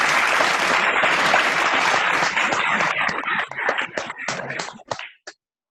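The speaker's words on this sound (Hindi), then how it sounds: "एक बार सभी मेरे साथ ताली बजाकर उनकी अनुमोदना करें" Audience applause at a Shruta Panchami gathering of the Sanmati Swadhyay Mandir, Ghatkopar, Mumbai: dense, loud clapping from many hands that thins into scattered claps and stops just before the end.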